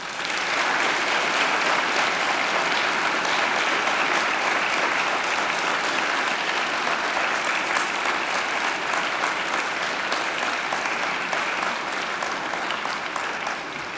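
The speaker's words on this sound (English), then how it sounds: "I invite you to give them a mighty round of applause" Sustained, dense applause from a university graduation audience at Macquarie, steady and loud throughout with no talk over it.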